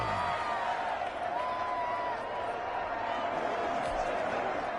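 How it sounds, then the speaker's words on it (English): A video game football stadium crowd roars steadily ahead of a big third down, a dense, continuous wash of cheering that stays loud and even throughout, with no break in the noise. "The crowd getting into it as we come up on a big 3rd down"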